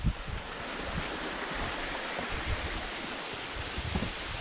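A waterfall about 40 feet high roars in a shaded mountain ravine in Colorado's San Juan Mountains, a dense, steady rushing wash heard close up with no voices.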